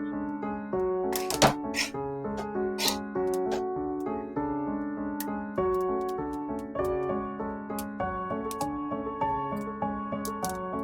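Sesame seeds roasting in a pan over a gas flame, giving scattered sharp crackling pops under steady, fairly loud background music.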